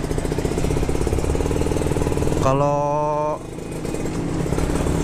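A Kawasaki Ninja RR motorcycle engine runs steadily close by with a buzzing, rattly two-stroke drone, briefly rising in pitch with a revving whine midway before settling back, while a voice speaks over it.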